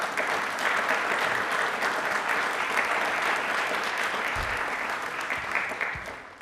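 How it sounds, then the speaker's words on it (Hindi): A studio audience at a televised quiz show breaks into loud, sustained applause, a dense wash of clapping that fades slightly toward the end. "तालियां प्लीज एक बार जोरदार हो जाए।"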